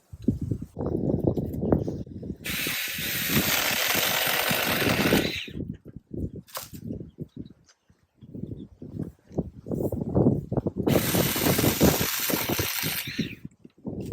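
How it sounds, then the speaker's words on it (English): A Saker mini battery-powered one-handed chainsaw prunes tree branches on a farm in fall, its high buzzing whine running loud in two long bursts, with quieter rustling and knocking of branches between them. "So that was quick and made it a lot easier and safer using this little one-handed battery-powered saw."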